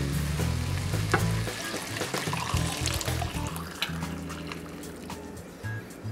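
Water poured back into a pot of rice and lentils for Lebanese mjaddara, a soft continuous splashing and sizzling trickle, close but quiet, fading slightly toward the end.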